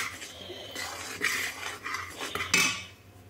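A jaggery and coconut mixture is stirred in a pan for coconut laddoos, with a spoon scraping and clinking against the metal in short, close bursts and no talk.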